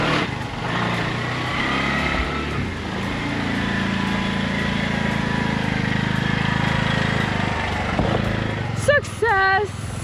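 A motor vehicle engine revs and drones steadily at close range while parking in a tight spot in Ella, Sri Lanka, then cuts off, with a voice speaking briefly at the end.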